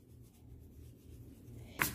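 A child writes numbers in a workbook, giving a faint continuous scratching of pencil on paper close by, ending with a brief sharper scrape near the end.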